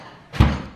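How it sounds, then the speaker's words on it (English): A drawer is shut after a pizza wrapper is put away, giving a single short, close thump with a brief knock that fades quickly in a quiet room. "Putting the pizza wrapper in the drawer."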